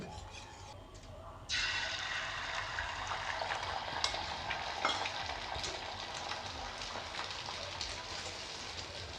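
Salted beaten egg sizzles in hot oil for homemade rolls, the frying hiss jumping in loudly after a brief quieter start and holding steady and close with small pops throughout.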